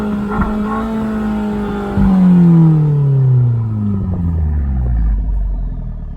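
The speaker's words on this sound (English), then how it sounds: "You can hear that turbocharger." Turbocharged engine of an Abarth 595 Esseesse with a standard Akrapovic exhaust revving hard, a loud, close, continuous drone that climbs in pitch, then swoops down with the turbo audible; no talk over it.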